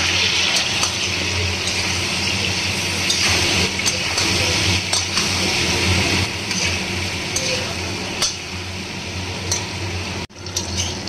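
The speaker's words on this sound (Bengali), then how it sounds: "এবার আমি আলু আর পটলটাকে লাল লাল করে ভেজে নেব।" Potato and pointed gourd pieces fry in hot oil seasoned with salt and turmeric. A loud hissing sizzle is broken by sharp pops and spatters, then cuts out abruptly near the end.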